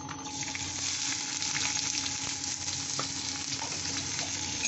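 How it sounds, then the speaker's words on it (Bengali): Steady, dense sizzling of chopped onion, green chili and garlic frying in hot oil, close and continuous, with a few faint clicks and no voices. "এটা বেশ ভালো করে ভাজা ভাজা করে নিতে হবে"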